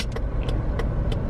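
A car rolls along a highway near Memphis, a steady low road rumble with faint interior clicks and ticks over the top, close and continuous.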